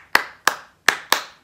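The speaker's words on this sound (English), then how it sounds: "So today we're going to use that clapping thing we've been doing" A group claps in unison four times, with sharp, close, evenly spaced claps as a transition cue in a class exercise.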